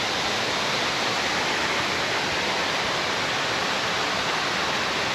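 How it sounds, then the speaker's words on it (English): A waterfall flowing heavily, a steady close broadband roar that fills the whole stretch without change. "A little bit of water going."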